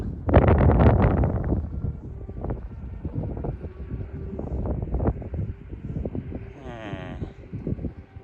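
Strong gusting wind buffeting the microphone outdoors while a 2.10-metre kite is flown, heavy rumbling blasts at first easing into steady rushing gusts, with a voice speaking briefly.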